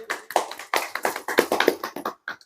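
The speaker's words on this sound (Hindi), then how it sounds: "जोरदार तालियां बजाइए।" A small group at a community honoring ceremony claps in uneven, sparse bursts, with sharp, distinct, close hand strikes and short gaps between them.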